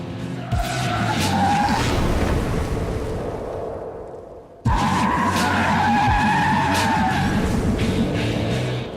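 A Toyota GT86 on skinny Prius tyres slides tail-out at about 30 mph. Loud, sustained tyre squeal runs over engine noise, drops briefly midway, then returns just as strongly.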